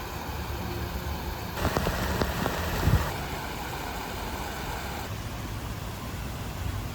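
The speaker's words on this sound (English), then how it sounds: "I put it through a heavy rain test" Heavy rain drums steadily on a Nemo Aurora 2 tent, a dense continuous hiss of drops with a few louder spatters in the middle and no voices.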